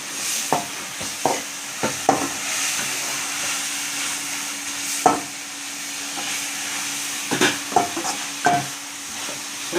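Mutton curry frying in a pan hisses steadily while a spoon scrapes and knocks against the pan in irregular strokes, close and fairly loud, with no one talking.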